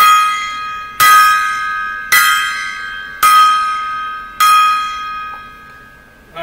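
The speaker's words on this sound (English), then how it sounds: "we give the 5-bell salute to all these individuals" Five loud, bright bell strikes ring out one after another at roughly one-second intervals, each tone decaying and overlapping the next, with no talking.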